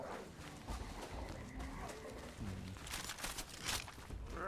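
Horse sounds in Age of Empires IV: muffled hooves and faint neighing over low, busy game ambience.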